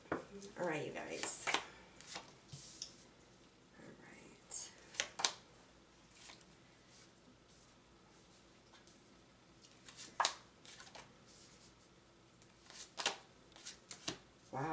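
Tarot cards being shuffled, faint riffling and flicking bursts that come and go in short clusters, quiet and close, with a voice talking at times between them.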